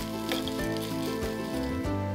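Grated potato rösti fries in oil in a pan over a fire, giving a steady, close sizzle with a busy crackle and no voices.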